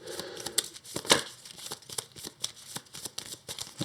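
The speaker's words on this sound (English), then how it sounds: "we shuffle the rest back into the deck" A deck of game cards for the board game Earthborne Rangers being shuffled, with soft, rapid riffling and rustling bursts close by and no talking.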